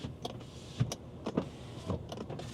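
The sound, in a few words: Volkswagen Touareg electric power windows moving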